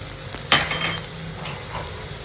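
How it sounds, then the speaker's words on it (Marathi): Red chili powder tipped into roasting peanuts and sesame in a pan, a brief dry scrape and stir followed by soft continuous sizzling and frying, close and without talk. "दाणे तर भाजलेलेच आहेत थोडे कमी भाजलेले आहेत आणि आता याच्यामध्ये टाकूया लाल तिखट"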